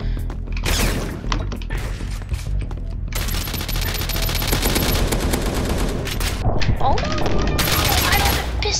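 Dense volleys of gunfire crackle through a Pixel Strike 3D mobile shooter match played on PC, with loud rapid shots stacking into near-continuous bursts. A voice also talks over the game.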